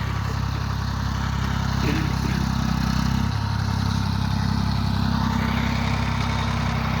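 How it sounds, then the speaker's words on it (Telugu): A tractor ploughing a farm field for vegetable planting drones with a steady low engine rumble, continuous and fairly close throughout, with no talk. "ట్రాక్టర్ అయితే దున్నేస్తుంది."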